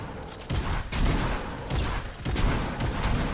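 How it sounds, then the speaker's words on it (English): Gunfire in a video game battle set in Los Angeles, with sniper shots among it: loud, sharp repeated shots and bursts in a dense barrage, close and continuous with no talk. "I said I'll snipe him, and then immediately sniped him."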